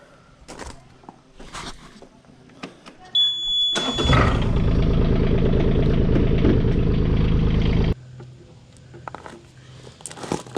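A Bobcat E20 mini excavator's engine rises to a loud, steady diesel drone for about four seconds while the machine rotates, then drops back to a quieter idle with scattered clunks, close by.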